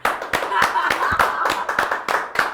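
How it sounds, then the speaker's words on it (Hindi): Hands clapping rhythmically on a podcast set, a few people producing sharp, close, loud claps about three or four per second in an uneven beat, with a voice talking over them. "जोरदार तालियां हो जाए"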